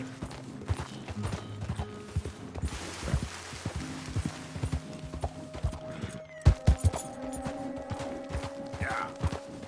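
Horse hooves clip-clop at a walking pace in Red Dead Redemption 2, a steady rhythm of close, distinct hoof strikes with a brief gap before resuming, over quiet game ambience.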